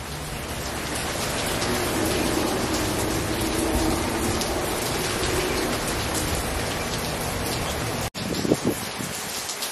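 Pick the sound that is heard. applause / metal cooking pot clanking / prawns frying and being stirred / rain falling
rain falling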